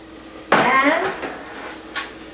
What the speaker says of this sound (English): let me give this a little bit of a stir